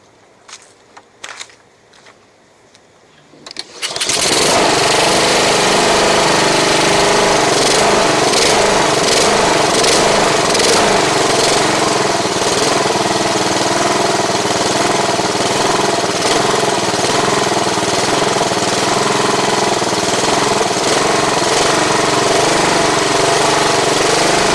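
Honda HRX217 lawn mower engine starts after a few faint knocks and runs loud and steady at close range, with a slight rhythmic rise and fall in its speed that fits surging.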